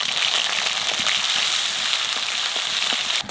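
Black cumin, asafoetida and ginger paste sizzle in hot oil, a dense, loud, close crackling hiss that runs unbroken.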